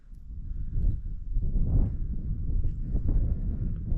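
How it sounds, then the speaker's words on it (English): Wind blowing at a winter camp buffets the microphone with a low, gusty rumble that swells and fades throughout, close and fairly loud, with no talk. "the wind's blowing it 15 kilometers an hour"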